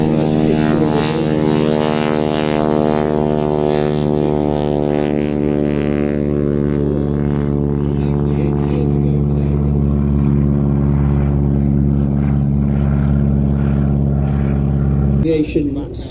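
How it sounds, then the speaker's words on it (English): A Super Stearman biplane getting airborne, its radial engine and propeller giving a loud, steady droning hum with strong harmonic tones that hold evenly before cutting off abruptly near the end. "Aviation super steerman getting airborne."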